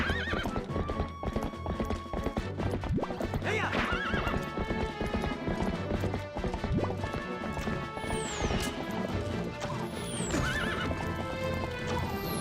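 Horse hooves clip-clop steadily alongside repeated loud neighs and whinnies in the Twilight Princess HD video game, with game music and effects layered throughout.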